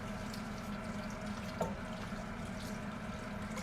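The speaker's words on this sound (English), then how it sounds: "Okay, I'm gonna add the water, mix it in." Water is poured into a chicken and kale casserole in a home kitchen, making a steady, fairly faint splashing wash that continues throughout with no talking.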